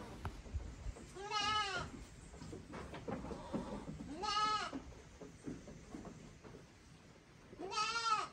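Goats on a small farm in Jamaica bleat three times in wavering calls spaced a few seconds apart, fairly close, over faint background rustle and low voices.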